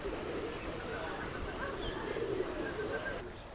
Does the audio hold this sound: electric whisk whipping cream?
no